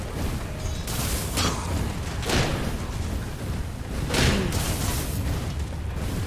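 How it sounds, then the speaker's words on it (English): Cannons firing in modded Skyrim during a battle, repeated heavy booms and bursts over a continuous roar of combat noise, several loud blasts spaced a couple of seconds apart. "Time to deploy the cannons."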